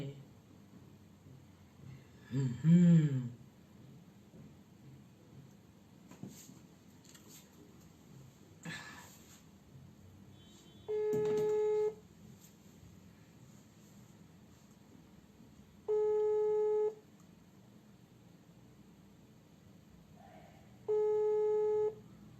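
A telephone busy signal sounds as three separate long tones spaced about five seconds apart over quiet background noise, after an earlier brief cough-like sound.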